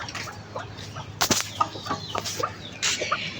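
Hens clucking in short bursts on a hot day, a few distinct calls scattered over a quiet background, with a couple of sharp thumps in between.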